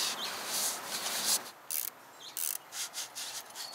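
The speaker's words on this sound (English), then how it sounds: "I'm just going to use a little bit of rubbing alcohol on this." A cloth rubs over a mountain bike handlebar with rubbing alcohol during a grip swap to ESI grips, giving a steady hiss of wiping, then a run of short, close scrubbing strokes in uneven bursts.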